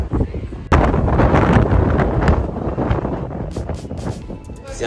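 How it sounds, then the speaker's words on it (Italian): Strong wind buffets the microphone with loud, roaring gusts at a hilltop palace walkway in Sintra, Portugal, continuous and rumbling, with faint speech beneath. "c'è un vento fortissimo"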